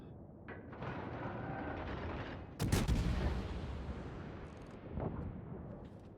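Heavy naval guns from a warship boom in the World of Warships game, a loud broadband blast near the middle of the clip over a constant rumbling battle din, with a softer second report toward the end.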